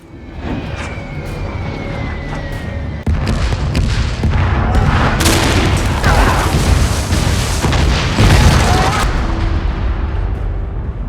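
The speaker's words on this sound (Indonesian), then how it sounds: "Bom tersebut benar-benar tepat sasaran." Bombs from an airstrike explode across a wide cliffside, a dense, continuous roar of heavy booms and rumbling blasts that swells louder after the first few seconds, loud and sustained throughout with no voices.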